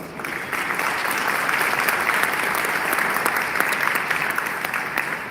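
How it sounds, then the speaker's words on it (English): Steady applause from an audience at a Veterans Day event, dense clapping holding at an even level throughout, with faint crowd murmur and no clear speech. "Please give a round of applause."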